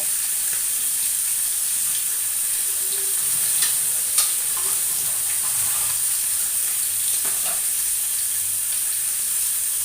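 Vegetables for a bean and potato curry fry in a hot pan, giving a steady, close sizzling hiss throughout, with a few faint stirring scrapes and no talking.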